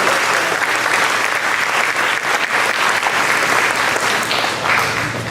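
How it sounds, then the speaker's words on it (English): An audience at a school board of education student recognition event applauding, sustained dense clapping from many hands that stays loud and even throughout. "so let's give her a round of applause."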